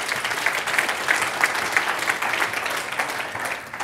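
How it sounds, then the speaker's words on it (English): Audience at a seminar breaks into steady applause, a dense patter of many hands clapping at even strength throughout, with a few louder individual claps standing out. "Give these guys a round of applause."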